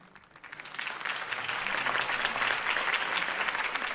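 A crowd in a Batman video game breaks into applause, building quickly from scattered claps into a loud, sustained ovation that holds steady to the end.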